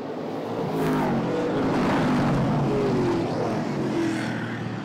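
Race cars roar around a track, engines rising and falling as several cars pass at mid distance, the whine swelling and fading in overlapping sweeps.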